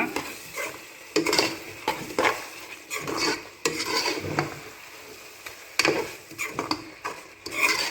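Masala gravy for a beef curry is sautéed in a pan. A spoon stirs and scrapes in repeated strokes over a soft sizzle, with intermittent metallic clinks, close up and with no talking.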